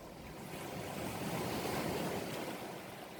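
Surf rolls onto an ocean shore in a continuous hiss and rumble, gently swelling and receding, moderately distant and alone without speech.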